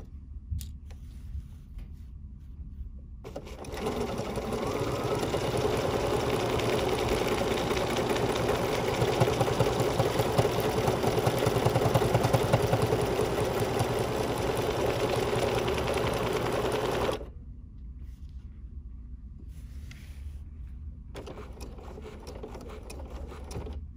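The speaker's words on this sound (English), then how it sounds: "now I'm going to lower my foot and start stitching" An embroidery sewing machine stitches a butterfly appliqué body over stabilizer, running loud and steady with a dense mechanical whir for about thirteen seconds before stopping, with quieter clicking and pauses on either side.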